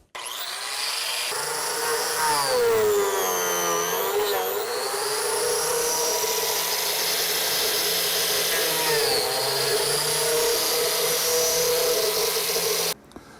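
A biscuit joiner whines loudly and continuously as it cuts slots into a wooden miter joint for a waterfall corner, its motor pitch dipping under load a couple of times before shutting off abruptly at the end.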